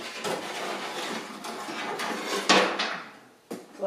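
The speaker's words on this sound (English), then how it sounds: "I'm removing the irreplaceable window glass." Glass being removed from the door of a 1976 Mazda RX-5 Cosmo, with scraping, sliding and knocking handling noises, a couple of sharper clunks, fairly quiet and close, with no talking.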